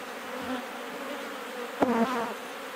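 Honeybees hum and buzz around an opened hive, a steady close drone with a couple of louder passes as individual bees fly near.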